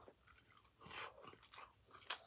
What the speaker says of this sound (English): I'm about to be munching